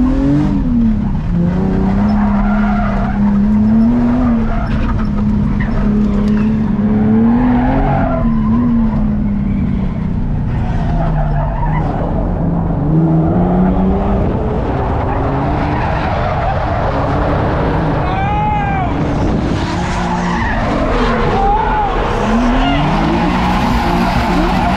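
A Nissan 370Z drifting, its engine droning loud and steady while the tires squeal in long wavering howls that rise and fall throughout, with brief voices faintly underneath.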